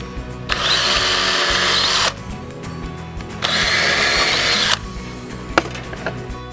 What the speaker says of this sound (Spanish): Antes de armar, perfore todas las piezas.